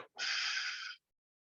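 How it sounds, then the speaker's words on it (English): A single forceful breath pushed out during a core fitness workout, close and alone, a sharp onset followed by a steady breathy rush of just under a second that cuts off into silence. "Breathing out."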